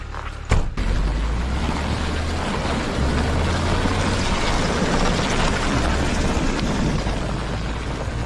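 A warmed-up vehicle engine runs steadily at idle, giving a continuous low rumble with a broad hiss over it, fairly close and unbroken after a brief knock near the start.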